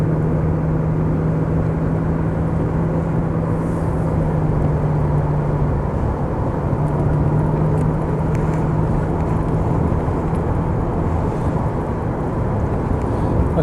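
Porsche 928S V8 pulling onto a motorway, a steady low engine drone mixed with heavy road and wind roar, continuous and close from inside the car.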